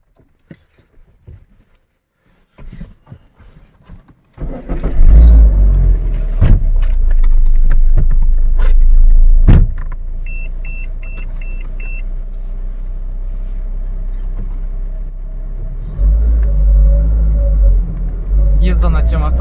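A Renault Espace 3 minivan pulls away and drives, its low steady engine and road rumble filling the cabin, with a few faint beeps and light clicks over it; someone talks over the driving sound.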